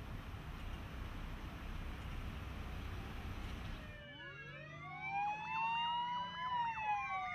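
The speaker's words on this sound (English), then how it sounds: "when you hear a siren or see emergency beacons" Emergency vehicle siren wailing in rising and falling sweeps, starting after a stretch of steady road noise and growing louder as it approaches, alone without talk.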